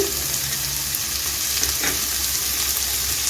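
Red chili sauce hits a hot pan over high flame, giving a loud, continuous sizzle up close with faint stirring underneath and no talking.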